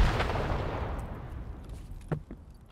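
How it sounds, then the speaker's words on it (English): A loud explosion rumbles and decays in Escape From Tarkov near a construction area, followed by a couple of sharp distant gunshot-like cracks. "It's like I called that explosion."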